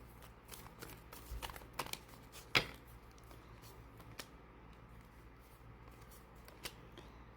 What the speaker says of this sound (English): I will do a couple more shuffles just to see if anything else wants to come out.